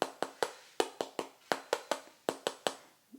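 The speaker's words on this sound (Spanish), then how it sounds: "Suena así porque está el pellejo muy crujiente" Crispy skin on an oven-roasted Cuban-style pork shoulder is tapped about a dozen times, giving close, hard, hollow cracking knocks in an uneven rhythm with no talking over them.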